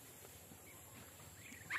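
Two-week-old free-range Muscovy ducklings call softly in short, faint peeps, with one louder call at the very end.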